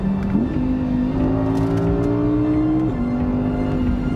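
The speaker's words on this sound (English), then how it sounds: "the V10 that powers this car is the only wow factor you'll ever need" An Audi R8's V10 engine revs up and holds a high, smooth drone, dropping briefly on a gear change before pulling on again, loud and close.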